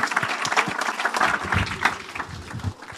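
A church congregation breaks into applause, a dense burst of many hands clapping at close range that holds steady for about three seconds before easing off.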